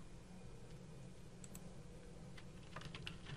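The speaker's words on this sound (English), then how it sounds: "Now when I type" Typing on a computer keyboard in Microsoft Excel, quiet scattered key clicks that pick up into a short burst near the end, close by over a faint background hum.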